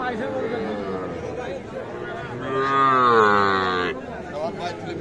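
Young calves at the Aftabganj cattle market moo in a drawn-out, moderately loud call amid the steady chatter and murmur of a crowd.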